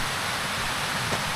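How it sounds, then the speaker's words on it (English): Water tumbles down a waterfall on Gatherstone Beck in the Lake District, a steady broadband rush heard from nearby with no voices over it. "we've got some stunning waterfalls here on Gatherstone"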